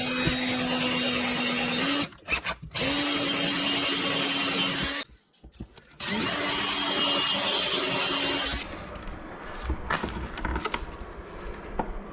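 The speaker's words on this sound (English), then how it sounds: "I'm just going to drill some holes" A power drill drilling holes in wood whirs loudly in long bursts with brief pauses between them, its motor pitch steady and close.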